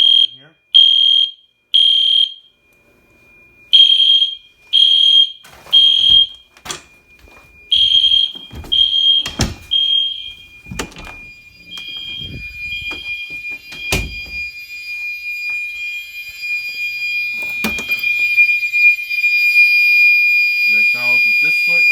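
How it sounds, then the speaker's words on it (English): A loud fire alarm blares in repeated beeping bursts, then settles into a steady piercing tone punctuated by clicks and knocks. "The fire alarm going off in here."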